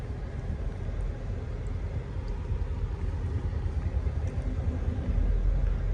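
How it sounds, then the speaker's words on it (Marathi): A Mahindra BE 6 electric car cruising on cruise control, heard as a steady low road and wind rumble from inside the cabin, continuous and even with no talking. "क्रूज कंट्रोल वापरतोय आपण सध्या तरी गाडीचा"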